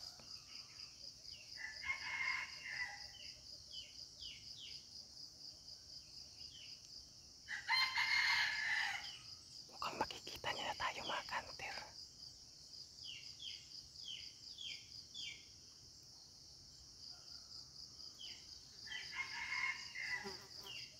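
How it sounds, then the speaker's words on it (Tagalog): Wild red junglefowl (labuyo) crowing outdoors near a trap, several drawn-out calls at middle distance over a steady insect drone, with someone speaking quietly in between. "pumuputak yung labuyong alpas malapit sa ating pangati"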